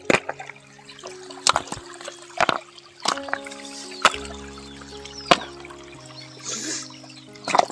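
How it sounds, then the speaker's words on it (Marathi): Water trickles out of a crop field through a gap in stones into a drain channel, a faint steady flow with scattered clicks and drips, no voices. "ही अशा प्रकारे इथून पाणी ही ह्याच्यातलं जाते"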